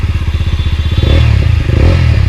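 A Mahindra Mojo motorcycle runs loud and close, its engine thumping in a fast, even pulse that thickens into a denser, rising drone as the bike pulls away.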